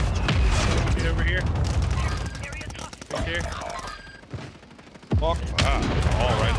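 Light machine gun fire in a video game gulag duel: loud bursts of rapid gunfire with booming hits, close and dense, a pause then more shooting, with a voice talking over it.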